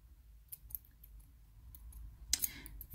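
Scissors snipping small bits of material for a hanging eyeball prop, a few quiet, close clicks and snips spaced irregularly, ending with a slightly louder double cut.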